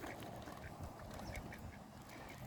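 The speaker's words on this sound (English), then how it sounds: "Are there many ducks here today?" Ducks quack steadily at a shrinking, drying pond outdoors, a dense, faint chorus of calls blended with broad outdoor background noise and no speech.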